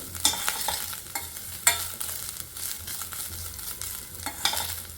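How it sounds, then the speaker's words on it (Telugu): Dry fruits fry in ghee in a pan for coconut payasam, a steady sizzle broken by repeated scraping strokes of a spoon stirring them, close and with no talk. "ఇలా గీలో వేయించితే టేస్ట్ బాగుంటుంది, అంటే పచ్చి వాసన కూడా పోతుందని ఇలా గీలో అయితే వేయించుతున్నాను."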